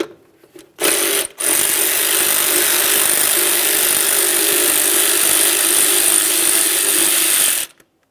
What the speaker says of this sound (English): Let's remove this final mounting bolt.